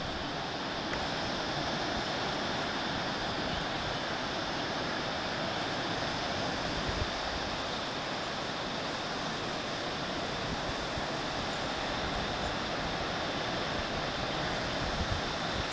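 Steady broadband rush of white water on the river deep in Gara Gorge, a continuous distant roar with no breaks, blended with some wind noise across the microphone.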